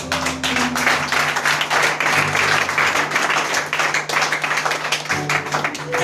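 A church congregation applauding during a worship service, dense sustained clapping mixed with a musical drone and sustained tones underneath, loud and continuous throughout.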